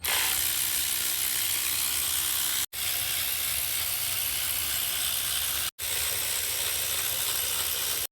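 Bolts are turned on the engine of a 2017 Subaru Forester 2.5 FB during cylinder head removal, a steady close ratcheting buzz in three long runs separated by brief pauses.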